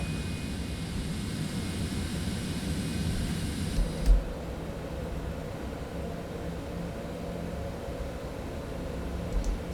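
Jet engine whine from an aircraft taxiing in Microsoft Flight Simulator 2024, a steady rumbling drone with a faint hiss that carries on throughout. A brief thump comes near the middle.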